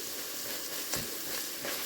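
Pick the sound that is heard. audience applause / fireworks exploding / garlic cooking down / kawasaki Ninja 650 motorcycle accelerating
garlic cooking down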